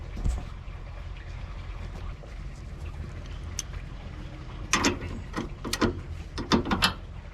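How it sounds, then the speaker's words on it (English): A 7/8 socket ratchet turning a tie rod during toe adjustment on a Toyota gives a few quiet irregular clicking bursts in the second half, faint and close over a low background hum. "I got 7/8 socket right here that I'm using."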